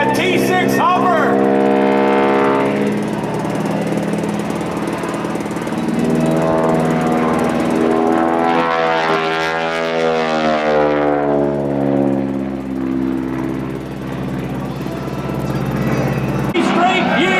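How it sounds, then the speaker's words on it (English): Loud, sustained engine and propeller drone from a T6 aircraft hovering low at a fly-in, with a rising and falling harmonic roar that swells midway, dominating throughout and cutting off near the end. "The propeller, Bud Brantley making that T6 hover"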